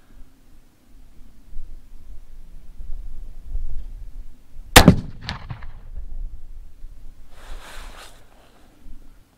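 A single sharp, loud crack from a Martini-Henry rifle firing an 85 grain load at a shooting range, a brief echoing ring trailing off, with faint outdoor background noise before and after; no talking.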